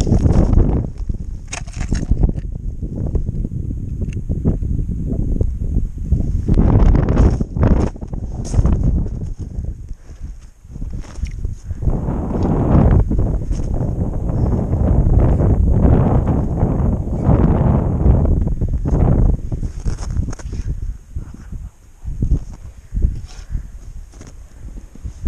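Wind blowing across open lake ice during walleye fishing, a continuous rough buffeting rumble against the microphone with rustling and shifting gusts, loud and close throughout.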